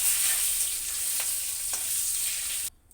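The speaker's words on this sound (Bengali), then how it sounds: "লাল লাল করে ভেজে নেব ডিমগুলো" Eggs fry in hot oil, a close, steady hiss and sizzle with faint stirring clicks, cutting off just before the end.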